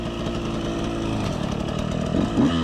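A harsh, buzzy two-stroke KTM 125 SX dirt bike engine roars steadily up close, its pitch climbing in a short rev toward the end.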